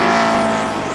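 A NASCAR Winston Cup Dodge race car at Pocono during the 2002 Pennsylvania 500 drives hard into a corner, its engine a loud, close, steady roar with a high whine, briefly heard alone.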